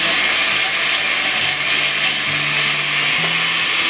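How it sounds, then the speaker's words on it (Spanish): An electric blender purees cooked onion, tomato, chipotle and cooked lentils for a lentil dish, giving a loud, steady motor whir that runs unbroken throughout with no talking. "Después vamos a licuar la cebolla ya cocida con un jitomate, el chipotle y las lentejas ya cocidas."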